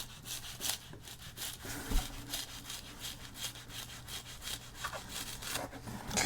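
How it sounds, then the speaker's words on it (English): Repeated scraping and sawing strokes of a spatula chiseling through the pages of a crushed-flat 1952 comic book rasp in an uneven back-and-forth rhythm, close up and moderately quiet. "kind of chiseling and sawing away here."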